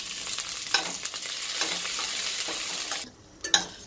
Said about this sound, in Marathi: आता आपण थोडंसं त्याच्यामध्ये अगदी एक चमचा तेल टाकूया, म्हणजे छान खमंग अजून भाजल्या जातील